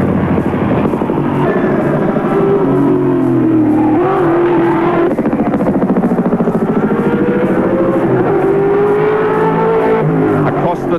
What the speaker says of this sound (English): As one of Australian motorsport's most popular drivers guns the big V8.